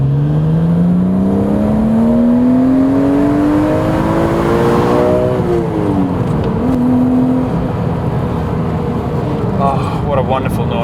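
A BMW Z3 M Coupe engine pulls through the gears while driving, a loud rising in-car drone that climbs steadily, drops at a shift and climbs again, with someone speaking briefly over it.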